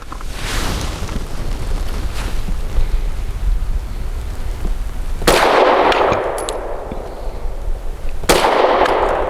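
A Tisas PX 9 Gen 3 pistol firing Winchester Silver Tip 115 grain jacketed hollow point rounds at an outdoor range, with two sharp, loud shots spaced a few seconds apart over steady background noise.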